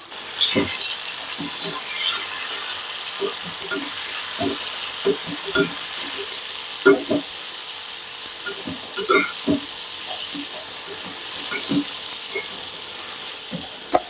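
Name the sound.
garlic frying and being stirred in pan with salt, chili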